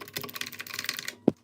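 Fingers type quickly on a Redragon mechanical keyboard, giving a dense run of clacky keystrokes close up, ending with one louder thump before silence.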